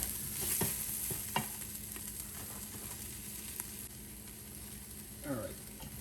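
Spices sizzle faintly in an Instant Pot insert, with a low steady frying hiss broken by a few soft scraping and clinking stir sounds.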